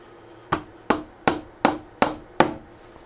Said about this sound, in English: you want to put your nails into these end boards